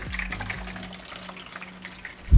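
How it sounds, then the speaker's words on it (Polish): Water pours steadily onto a baking tray holding jars of beetroot, with a soft, trickling splash, and a low hum runs underneath, ending in a dull knock. "na blachę dolewamy trochę wody"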